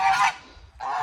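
Homestead geese give two loud, close honks with a short gap between them, and nothing else is heard.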